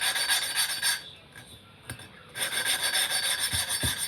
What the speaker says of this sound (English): you should be able to hear that there we go, that coarseness getting finer and finer as that paste breaks down